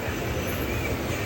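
Basava Express pulling out of Hodgi junction station near Solapur, a steady low rumble of the moving train with a faint hiss above it, continuous and fairly close with no voices.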